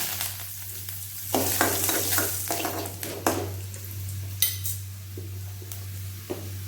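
Dried red chillies and curry leaves stirred and frying in a pan give a steady close sizzle, with a spoon clinking and scraping against the metal in irregular strokes and a constant low hum underneath.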